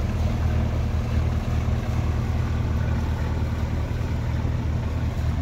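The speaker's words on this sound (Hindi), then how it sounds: "ये बोट उस छोटी वाली बोट को ओवरटेक करते हुए" A motorboat on the Alleppey backwaters overtakes a smaller boat. Its engine gives a loud, steady low drone with rushing water and wind noise throughout, and no one speaks.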